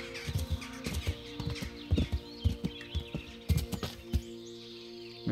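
Horse hooves clip-clop at a steady walking rhythm in the medieval game Kingdom Come: Deliverance, close and clear over a soft background hum with faint birdsong.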